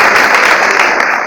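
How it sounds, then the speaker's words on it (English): Applause from a school audience for the principal at a rural Kenyan women's peace gathering, a dense, steady wash of clapping filling the whole short stretch at close range. "give a round of applause for our mother"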